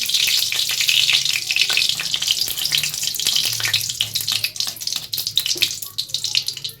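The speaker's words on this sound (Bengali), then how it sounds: "ওই তেলে আমি অ্যাড করছি এক চামচের মতো ঘি" A spoonful of ghee sizzles in hot oil in a pan while a cauliflower roast is being cooked: steady, loud, close frying hiss with crackling spatter throughout.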